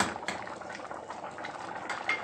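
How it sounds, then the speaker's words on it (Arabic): Homemade milk with a spoonful of cream comes to a quick boil in a pot, giving a steady, close bubbling and hissing simmer with a few light knocks. "احطه بس يغلي غلوه صغيره"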